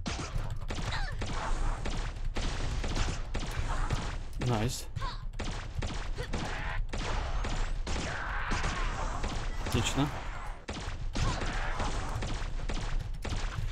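Plasma gun blasts in the 2D run-and-gun game Bombastic Brothers, dense rapid shots and impacts running throughout, loud and busy under a man's speech.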